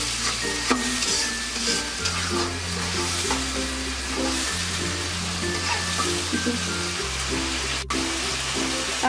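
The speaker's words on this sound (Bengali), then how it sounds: "5-7 মিনিট কষিয়ে নেব।" Spices and whisked sour yogurt for chicken biryani sizzle and fry in a pan, with continuous stirring scrapes and a steady hiss throughout, close and fairly loud, while background music plays underneath.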